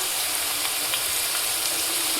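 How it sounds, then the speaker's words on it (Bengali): Potatoes fry in a pan with an even, continuous hissing sizzle, heard up close without any voices. "দেখো আলুটা এরকম ভাজা হয়ে গেছে, ভালো একদম ভাজা হয়ে গেছে"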